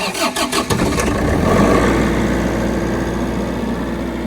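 A food truck's chef unit cranks with a few rapid ticks, then catches and settles into a steady, loud running hum close by.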